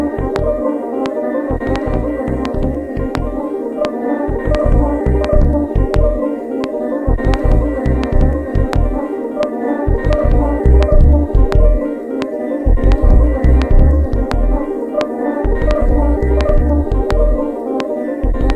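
Bass line recorded onto the fourth track of a four-track cassette mixer, a loud, close run of deep, evenly pulsing notes with short gaps between them, continuing throughout with no voices.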